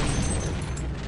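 A grenade blast in Half-Life, a dense, loud, close roar of broadband noise that fills the whole moment and holds steady without a clear decay.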